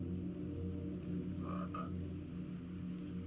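A giant frog in a horror video game lets out a low croak, two short guttural pulses close and alone over a humming, droning background.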